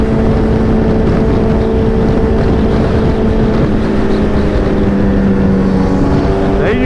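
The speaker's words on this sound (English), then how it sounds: "Bikes are right behind me." Group of motorcycles riding together on a road: loud, continuous engine roar with droning tones that shift in pitch as the bikes pass, under heavy wind noise, recorded close from a moving bike.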